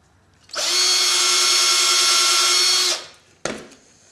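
A power drill bores a hole a little deeper into the wooden heel of a handmade cowboy boot, one steady loud whine of about two and a half seconds, then a brief clatter afterward.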